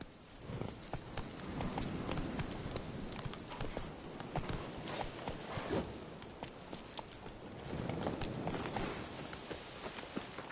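Roach the horse galloping in The Witcher 3 on PS5, rapid clip-clop hoofbeats in a steady running rhythm, moderately loud and continuous, with no talk.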